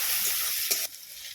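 Chopped onions fry in hot oil with bay leaves and cumin seeds for a lentil-and-jackfruit curry, giving a steady close sizzle with a brief stir near the middle before the hiss settles down.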